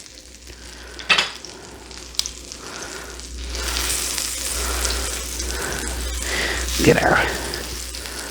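Bread frying in a pan for a full English breakfast, giving a steady hiss of sizzling fat that swells midway, with a few sharp clinks and scrapes on top and a brief spoken phrase near the start.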